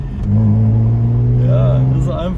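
A BMW 330i with the N52B30 straight-six and a performance rear silencer revs up, its deep steady exhaust drone rising loud and close, with a person talking over it.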